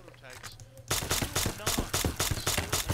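Rapid gunfire from an SMG and a BB Riot Shotgun in a modded Fallout: New Vegas, a quiet lead-in followed by a steady string of loud, sharp shots at close range.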